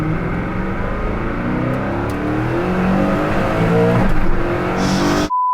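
A Hennessey Venom F5 hypercar pulls hard in second gear, its engine note loud and close, rising steadily with harmonic sweeps for about five seconds before cutting off abruptly.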